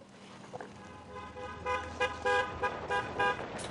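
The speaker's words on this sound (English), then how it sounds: "I hear her little car." A small car arrives and gives several short, bright honks of its horn in quick succession. The honks are moderately near over faint background noise.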